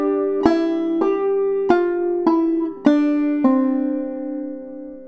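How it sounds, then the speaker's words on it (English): Clawhammer banjo playing a walk-up line with a double drop thumb in the tune Kitchen Girl: six bright, ringing plucked notes at an even pace, close and alone, the last one left to decay. "So that walk-up line with the double drop thumb line sounds like this."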